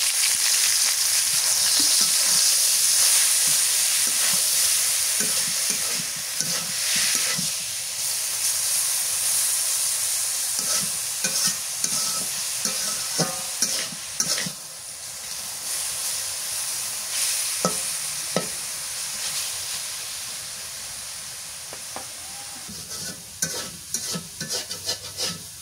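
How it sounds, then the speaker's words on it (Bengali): Dangua greens stir-fried with onion, garlic and chili, steady close sizzle and hiss with repeated scraping stirs of a spatula throughout, no voices. "পেঁয়াজ রসুন ভাজা হয়ে গেছে, মরিচ, এবার শাকটা দিয়ে দিই।"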